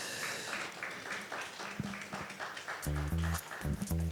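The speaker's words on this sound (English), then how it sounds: "Can we give him a round of applause?" Conference audience at the PAFON 2026 payments forum claps for a closing speaker, scattered mid-level applause that thins out, followed by loud low thumps and tones near the end, likely microphone handling or music.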